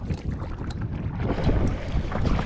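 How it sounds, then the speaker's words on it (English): Strong wind on Foam Lake in Wabakimi buffets a canoe, a heavy, blustery rumble of gusts and microphone wind noise close and loud throughout. "The wind is unbelievable, but we're not far from getting off this lake, but it is crazy."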